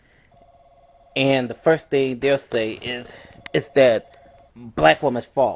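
A phone rings softly in the background, a repeating electronic tone running beneath a man's continuous close speech for most of the moment.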